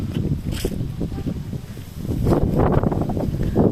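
Strong wind buffeting the microphone in continuous gusty roars, growing louder in the second half.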